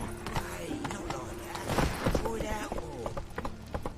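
Roach, a horse in The Witcher 3, gallops in quick, even hoofbeats under game music and ambience while a voice speaks over it.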